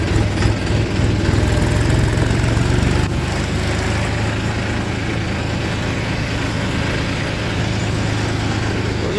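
A John Deere tractor drives through a sugarcane field, its engine holding a steady, rumbling drone with a slight drop in level after a few seconds, close and continuous throughout.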